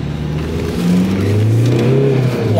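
A car engine revving hard while the driver circles, loud and close, with pitch climbing and dipping in repeated surges over a low rumble.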